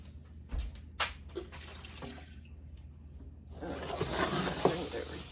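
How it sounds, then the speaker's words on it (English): Water poured from a container into satsuma peel puree in a kitchen, a soft splashing gush that builds in the final seconds after a few clinks and handling noises, with faint talk. "And then we're going to add 4 cups of water."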